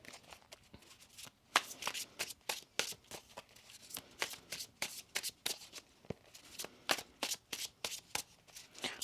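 Cards being shuffled in quick riffling bursts, a dozen or so sharp crisp flutters spread evenly through the clip, close and fairly quiet.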